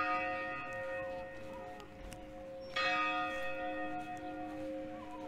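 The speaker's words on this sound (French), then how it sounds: "j'arrive toujours quand la cloche sonne" A village church bell rings out at noon with sustained, ringing tones that overlap, then a fresh strike partway through renews the sound against a soft outdoor background.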